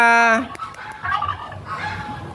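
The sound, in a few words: geese honking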